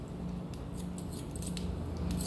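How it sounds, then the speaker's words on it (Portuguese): Thinning scissors snip through hair as a comb glides along during a texturizing haircut, a close, quiet series of quick light metallic clicks in an irregular rhythm. "Tesoura desfiadeira, pente corrido, sem pressa, você vai tirando"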